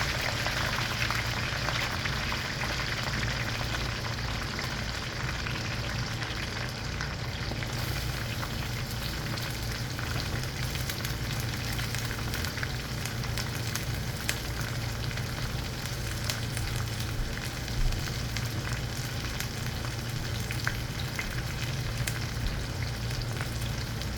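Onions and cinnamon frying in hot oil for a Bengali beef liver bhuna, a steady close sizzle and bubbling crackle that runs unbroken throughout with no talking.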